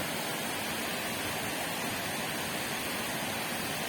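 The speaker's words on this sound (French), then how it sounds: "avec l'élément de l'eau, avec cette cascade" A waterfall near a Roman bridge in Montfort pours with a steady, dense broadband rush, constant and fairly close, with no voices.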